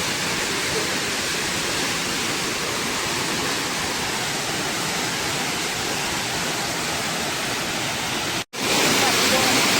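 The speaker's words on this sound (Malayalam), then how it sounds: "ഈ വെള്ളച്ചാട്ടം കാണാൻ അടിപൊളിയാണ് കേട്ടോ" Waterfall in Goa roaring as a steady, loud broadband wash of falling water, unbroken for nearly the whole stretch apart from a momentary cut near the end.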